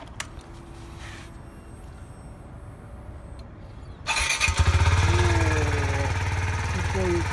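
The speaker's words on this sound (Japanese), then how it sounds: "エンジン音聞かせてもらえますか？" A 2016 Kawasaki Z125 Pro motorcycle engine starts up about halfway through and settles into a steady, buzzing idle close by, after a stretch of quiet background noise.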